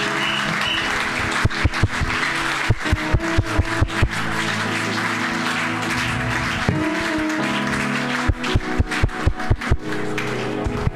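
A church congregation at a Sunday service claps loudly and steadily, a dense sustained applause with sharp rhythmic claps and cheering running throughout.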